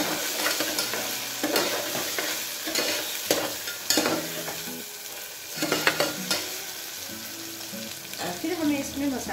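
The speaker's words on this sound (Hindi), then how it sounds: "अदरक लहसुन का पेस्ट जो है उसका कच्चापन जाने तक भूनना है" Ginger garlic paste frying in a pan with a steady sizzle, while a spoon scrapes and stirs in repeated clattering strokes close up.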